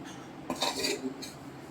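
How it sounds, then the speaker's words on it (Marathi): Melting jaggery being stirred in a pan over a low flame, two brief metallic scrapes and clinks of a spoon against the pan, faint and close, then quiet. "तर आता मी त्याला मंद आचेवरती ढवळत राहणार."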